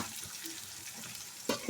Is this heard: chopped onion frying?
yes